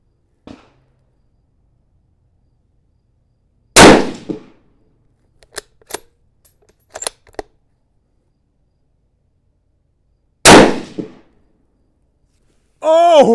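Two sharp, loud rifle shots from a Howa .223 varmint rifle, several seconds apart, each with a short echo, separated by small clicks of handling, with a voice starting at the end.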